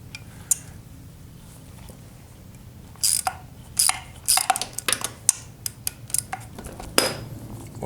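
Metal clicks and taps while a ratchet works the shifter off a 1972 Honda CB450, scattered short sharp clinks after a quiet stretch, close and moderately loud with no talk.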